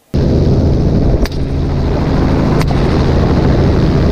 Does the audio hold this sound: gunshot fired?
yes